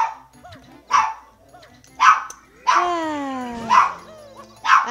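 A pet dog barks in sharp repeated bursts at close range, roughly one bark per second, while a person shouts over it and video game music plays underneath.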